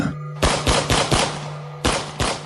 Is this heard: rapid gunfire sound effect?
yes